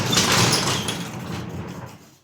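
A garage door rolls open, a loud, close rumbling slide that fades out toward the end.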